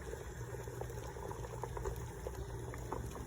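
Menudo soup that has been simmering in a pot for hours, bubbling steadily with a soft continuous boil and small liquid pops, close and fairly quiet.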